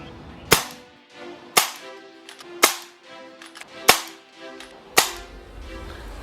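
A BRK Ghost air rifle firing slugs on power setting 2 gives five sharp, dry cracks spaced roughly a second apart, each snapping loud and close with a brief ringing tail between shots.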